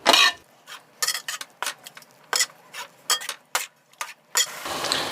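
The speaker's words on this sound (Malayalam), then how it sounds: "ഇത് നമുക്ക് കണ്ടിന്യൂസ് ആയിട്ട് ഇളക്കിക്കൊണ്ടേ ഇരിക്കണം." A spoon stirs carrot halwa cooking in milk in a pan, making intermittent scraping and clinking strokes against the metal in uneven bursts, fairly close with quiet gaps between.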